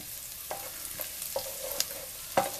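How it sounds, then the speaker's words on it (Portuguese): Garlic frying in lard in a pan, giving a soft continuous sizzle broken by a few sharp stirring scrapes and clicks of a utensil, close and fairly quiet. "observem que o alho, ele já está dourando"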